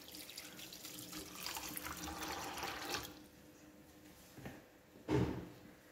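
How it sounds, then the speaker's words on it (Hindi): Water being poured into a pan of chana dal on a stove, a steady splashing stream for about three seconds followed by a few softer clinks and a short final splash, fairly quiet and close. "दाल के साथ ही इसके अंदर मैं पानी शामिल कर दूंगी।"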